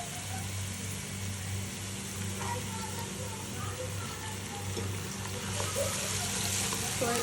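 Spices, ginger and garlic fry in a pan for a rice dish, a continuous even sizzle with a low steady hum underneath, swelling slightly louder toward the end.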